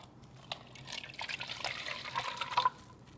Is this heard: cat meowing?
no